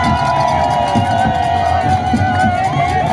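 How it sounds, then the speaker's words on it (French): A crowd gathered outdoors for an avenue naming ceremony makes a dense, constant roar of clapping and cheering, loud and close, with voices mixed in throughout. "Sous vos applaudissements."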